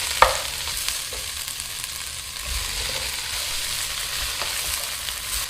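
Kale leaves cook in a vegetable soup pot, a dense steady sizzle and hiss with soft stirring rustles and an early sharp clink.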